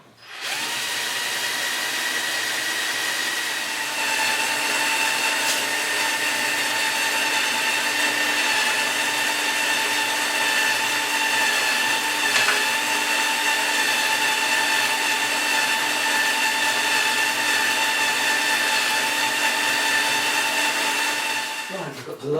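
A power tool runs continuously while rivets are fitted, a steady whining electric motor drone with a faint high tonal hum that holds for the full stretch before cutting off, with no talk over it.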